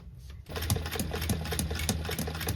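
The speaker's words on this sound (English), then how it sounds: "you're just going to sew to the point here where this curve is" After a brief pause, a sewing machine starts stitching a dart in satin fabric, a close, steady, rapid mechanical chatter with regular needle thumps that keeps going to the end.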